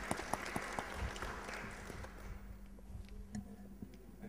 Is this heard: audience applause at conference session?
yes